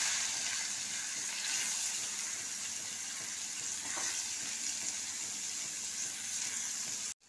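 Sliced onions with nigella seeds and green chillies hit hot oil in a pan, giving a steady bright hiss and crackle that holds evenly throughout before cutting off abruptly at the end.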